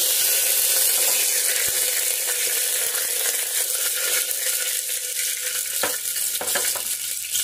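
Two bay leaves sizzle in hot oil in a pan for a khichuri, a steady bright frying hiss with occasional small clicks and stirring scrapes, close and continuous with no talking.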